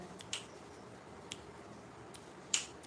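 Three faint, sharp finger snaps come spaced about a second apart at close range in an otherwise quiet room, each a small dry click.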